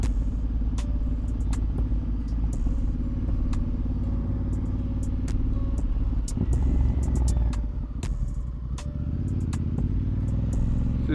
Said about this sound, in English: I've seen a lot of bikes like getting out of there.